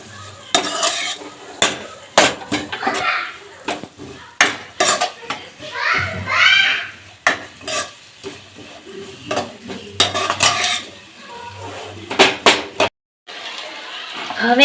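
Green onions stirred and sautéed in a pan for pulao, with repeated scraping and clinking of a utensil against the pan over a soft sizzle, a burst of frying around the middle, fairly close and alone.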